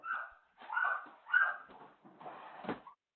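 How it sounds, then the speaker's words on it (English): Malnourished dogs in a filthy, neglected house let out a run of close, high whimpers and yelps in short bursts, with brief pauses between them and no human voices. "More dogs. 3 dogs. All malnourished."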